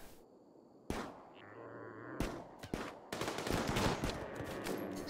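Gunfire in the colony game Rimworld, a handful of sharp shots and short bursts that start abruptly and then cluster into a denser volley, fairly faint and without talk.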